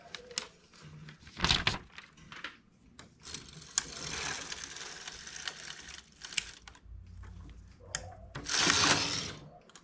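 A domestic knitting machine carriage sliding across the needle bed to knit a row of a colourful geometric pattern, giving clattering mechanical swishes and clicks in several separate passes, with quiet pauses between them.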